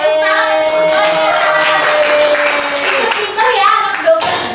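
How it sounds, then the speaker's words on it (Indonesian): Students in a sociology microteaching classroom clap their hands together, with close, quick clapping mixed under raised voices and a sustained vocal tone, the clapping rising and falling over a few seconds. "Tepuk tangan untuk semuanya."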